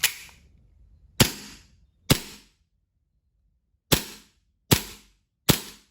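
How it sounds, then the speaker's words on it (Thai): A WE M9A1 airsoft BB pistol fires single semi-automatic shots, six sharp, loud cracks spaced irregularly with short silences between, close to the listener. "โอเคนะครับห้านัดออกปกตินะครับ"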